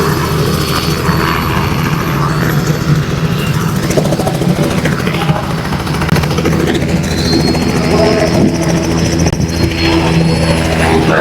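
A helicopter circles overhead and comes in to land beside an outdoor stage, its loud, steady rotor and engine roar filling the whole stretch without letting up.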